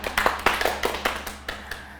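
Hands clapping on a TV game show, sparse and uneven, about a dozen sharp distinct claps scattered over two seconds rather than a full ovation.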